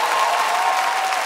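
Steady, dense applause from an audience fills the whole short stretch, loud and even with no voices above it, at a live comedy podcast recording.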